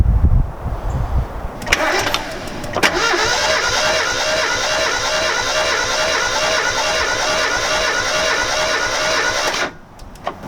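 A Mazda Miata engine cranks over on the starter during a compression test, a loud, steady, rhythmic churning that holds evenly for about seven seconds before cutting off, with a few brief clicks and knocks beforehand.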